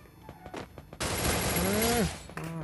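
Gunfire from a VSS suppressed rifle in a shooting video game, a dense sustained burst of loud shots lasting about a second, followed by a short tonal sweep and a brief second burst.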